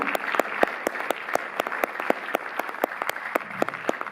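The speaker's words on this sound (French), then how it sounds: "sous vos applaudissements également" A cinema audience at a film presentation applauds in a steady, moderately close patter of individual claps, even in rhythm for the whole stretch, with no voices on top.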